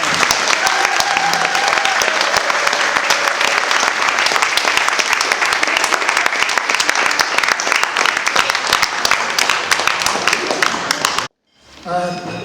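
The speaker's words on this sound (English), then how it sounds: "So let's give them a big round of applause." Dense, loud audience applause at a Human Rights Day dinner forum after a musical ensemble performance, continuous and even for about eleven seconds, then cutting off as someone starts speaking.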